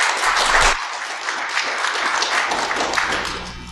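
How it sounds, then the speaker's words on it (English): An audience at a security conference talk applauds warmly, a close, dense burst of clapping that stays steady and fades a little toward the end. "please give a nice warm round of applause for Andrew and Anthony."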